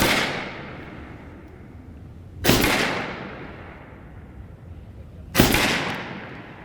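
Two sharp, loud shots from a Seneca Recluse 2 Tactical .357 big-bore PCP air rifle firing JSB 81.02-grain pellets, half cocked, spaced about three seconds apart, each with a brief ringing tail over quiet background.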